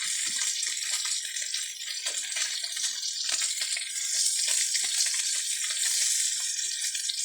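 Steady, loud sizzling of food frying in a hot pan, a continuous crackling hiss with small pops throughout.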